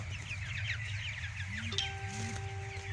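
Soft, rapid chirps and peeps from chicks flutter continuously over a low hum, with a brief higher tone near the end.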